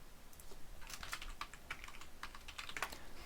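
Fast, irregular typing on a computer keyboard, with clusters of clicky keystrokes at close range and no one talking.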